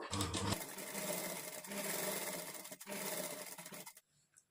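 Sewing machine stitching a princess cut blouse with invisible thread, running in a steady continuous whir that pauses briefly and then resumes, close and clear, stopping near the end.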